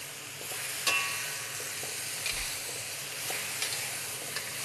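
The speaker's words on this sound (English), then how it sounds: "Then I'm going to add my scallions." Scallions sizzle hard in a very hot wok on a BlueStar cooktop, a steady close hiss of frying with a few brief clinks and stirring taps, and no talking.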